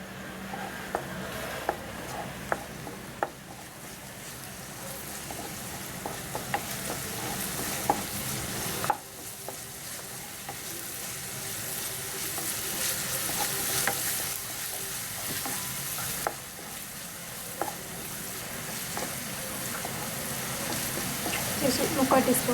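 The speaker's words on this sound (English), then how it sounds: "Just saute till the raw smell goes." Garlic paste and spice powders such as chili and turmeric sautéing in a pan for madakku puri, a steady sizzle with frequent stirring scrapes and clicks throughout, with faint voices talking now and then.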